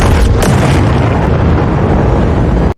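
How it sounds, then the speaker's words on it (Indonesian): A huge, roaring grenade explosion from the film Venom: The Last Dance fills the whole clip, a dense rumbling blast that holds steady at full loudness before cutting off. "Lalu Rex meledakkan tempat itu dengan granat, yang menimbulkan ledakan yang sangat dahsyat."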